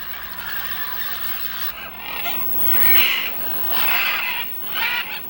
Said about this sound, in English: Then the macaws cautiously approach the clay bank.